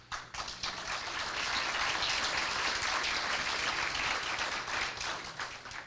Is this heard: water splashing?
no